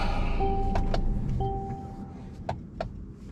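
A car engine cut off while the vehicle sits parked, its low rumble fading out, followed by a few dashboard chimes and a couple of sharp clicks inside the cabin.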